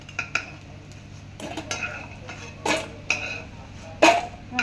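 Hard, fried red lentil fritters clatter in a pan on low heat, a few sharp clinks and knocks spread over several seconds, close and fairly clear with no talking.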